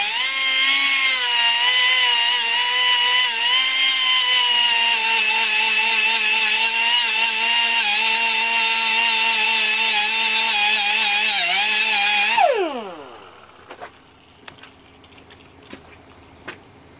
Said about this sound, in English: the best thing to use for grinding is a cutoff wheel is what you use in an air die grinder